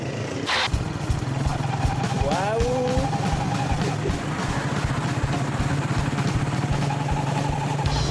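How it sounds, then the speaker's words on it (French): An old, worn-out motorcycle engine drones steadily throughout while riding, a constant low rumble with wind noise, and a person briefly exclaims early on. "C'est la première fois que je pars avec une moto pourrie."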